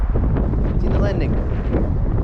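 Strong gusty wind buffets the microphone outdoors on a windy day at a model-plane flying field, a dense low roar throughout, with a faint distant whine and voices mixed in underneath.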